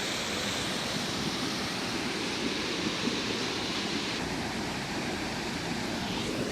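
Steady broadband rush of flowing water at Palaruvi Waterfalls in Kerala, constant and fairly close, with no voices.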